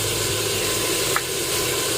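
Masala of tomato, red chilli, turmeric, coriander powder and salt sizzles in a frying pan, giving a steady, dense hiss throughout with one brief stirring scrape near the middle.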